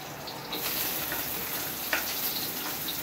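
Green capsicum fries for chicken chowmein, a loud, steady hiss of sizzling oil that swells after a brief quieter start, with one light clink midway and no talking.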